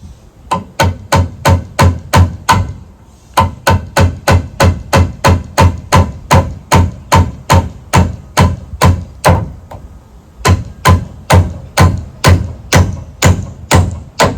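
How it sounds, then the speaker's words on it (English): Hammer driving nails into a ceiling joist board on a springboard, a long run of loud, close, evenly spaced blows in three bursts with brief pauses between. "Hold the board you're nailing."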